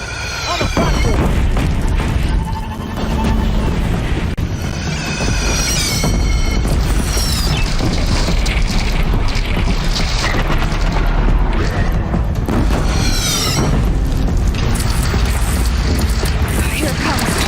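Heavy cannon fire and explosions in the video game Horizon Zero Dawn, a continuous loud barrage of booms and crashes with metallic grinding, mechanical whines and shouted voices woven throughout.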